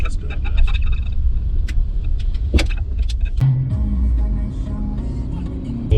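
A car driving on a highway in winter in Manitoba, heard from inside as a steady low road rumble with light rattles and clicks over it, holding level throughout.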